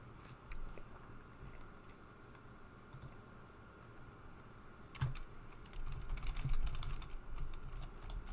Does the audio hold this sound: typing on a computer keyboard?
yes